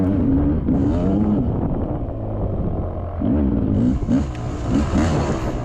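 A dirt bike in a hare scramble race climbs a slick, muddy hill, its engine loud and close, revving up and down through gear changes and throttle bursts.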